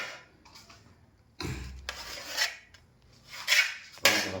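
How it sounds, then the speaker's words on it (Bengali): A knife cutting through roti flatbread on a hard surface, a few close rasping scrapes and sharp knocks in an uneven rhythm, without talking. "এই যে রুটি কাটছি এখন আমি"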